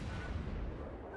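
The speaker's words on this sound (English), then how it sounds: "All stations, concentrate fire on the target." Naval gunfire from warships in the video game World of Warships, heard as a loud, continuous low rumbling boom that fills the whole short moment.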